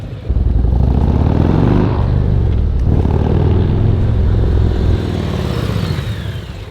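A motorcycle engine during rider training, running loud and close for several seconds as it slows with a falling drone and then settles near idle, with no talk.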